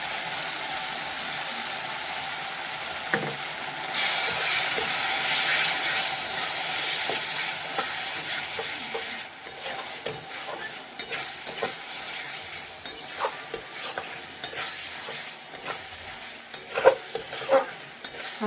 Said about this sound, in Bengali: তার জন্য আমি নেড়ে চেড়ে মশলাটা প্রথমে তেলটা উপরে তুলে নিচ্ছি।